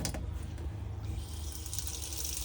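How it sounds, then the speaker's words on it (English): Water runs from a tap in a Hymer Exsis motorhome with a steady rushing hiss and a low rumble from the onboard water pump, gaining strength midway. "When I turn the pump back on and draw the water"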